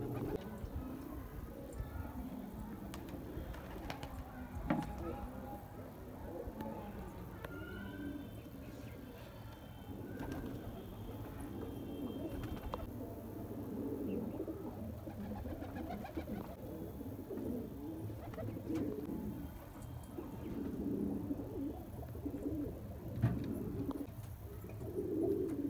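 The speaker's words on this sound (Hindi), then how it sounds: "ये वाले कबूतर तो बंद कर दिए हैं" Pigeons coo steadily in a rooftop net enclosure, their low, soft calls repeating throughout alongside occasional wing flutters and chirps, with no talking.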